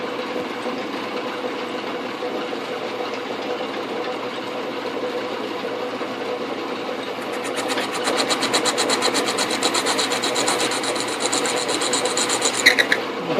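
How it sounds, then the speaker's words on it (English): An Atlas QC42 metal lathe runs steadily, then a cutoff tool bites into metal partway through, adding a dense, rasping scrape that swells louder toward the end, with no voices. "Now let's see if I can do a cutoff here without snagging the cutoff tool."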